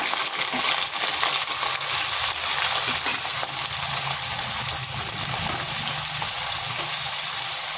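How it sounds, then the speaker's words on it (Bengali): Thinly sliced medium onions fry in oil with cardamom, cinnamon and a pinch of turmeric, giving a steady, close, dense sizzle that runs throughout with no talking. "পেঁয়াজটা একটু ভেজে নিচ্ছি"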